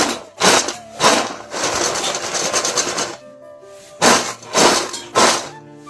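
Freshly fried homemade kurkure snacks are stirred, giving loud crunchy rattling bursts, some short and one longer stretch, close by with no talk.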